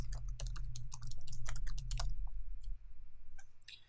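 Quick bursts of keystrokes on a computer keyboard as a studio name is typed into a text box, close and steady for about two seconds, then a few scattered clicks over a low constant hum.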